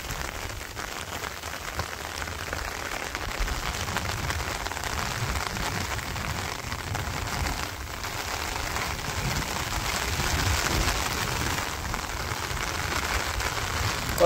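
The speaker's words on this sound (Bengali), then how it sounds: "কত সুন্দর বৃষ্টি" Steady rainfall during the rainy season, an even close hiss of drops on surfaces that holds for the whole stretch and swells a little near the end, with no voices.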